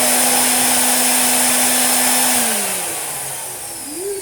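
Hoover Constellation vacuum cleaner running after being switched on, a loud steady whining motor hum close up that holds evenly, then the pitch sags and wavers before rising again near the end, no talking.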